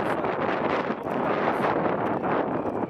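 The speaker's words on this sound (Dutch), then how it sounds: "En de wind waait nog steeds keihard" Strong wind blows hard across the microphone outdoors, a loud, continuous roaring buffet with rustling gusts throughout and no voices.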